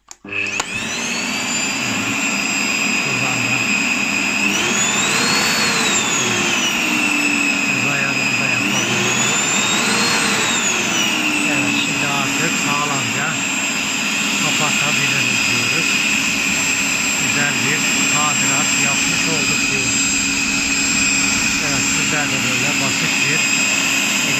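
A repaired electric vacuum cleaner, fixed after a cord fault, runs steadily from start to finish with a loud whining motor drone that rises and dips twice. A voice speaks over it throughout.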